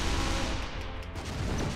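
Weapon fire from the artillery game Shellshock Live: a dense, roaring blast of noise that fills the whole moment at steady loudness, with no talking.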